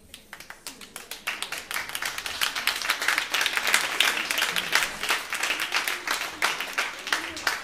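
Audience at a live performance applauds in a dense burst of clapping that swells and holds, individual claps sharp and close, loud and continuous throughout.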